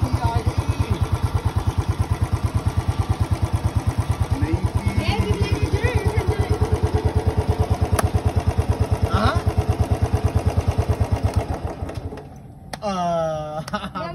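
A motorcycle engine idles steadily with a rapid, even putter for most of the clip, then drops off near the end.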